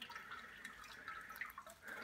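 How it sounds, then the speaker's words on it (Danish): Water trickles slowly and steadily from a jug onto a sparge plate while brewing a Westvleteren-style homebrew beer, a faint continuous splashing pour that holds evenly throughout. "sådan en kande her kan godt tage op til 2 minutter og hælde over lige så stille"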